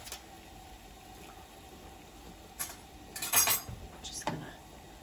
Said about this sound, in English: a pot of water, plenty of water in it, going at a nice rolling boil